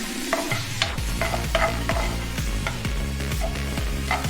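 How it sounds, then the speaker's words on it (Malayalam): Onions are sautéed with curry leaves in a pan for an ilumban puli thodu curry, with a steady sizzle under repeated rhythmic scraping strokes of a spoon against the pan, close and clear. "ഇനി ആ ഉള്ളിക്കൊരു ലൈറ്റ് ബ്രൗൺ കളറാവുന്നത് വരെ ഒന്ന് വഴറ്റിയെടുക്കാം"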